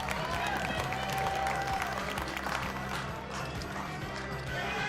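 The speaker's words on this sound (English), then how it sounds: "Crowd goes wild, and how could they not?" A poker tournament crowd erupts in cheering and sustained applause after a big hand is revealed, dense clapping and voices filling the room for several seconds.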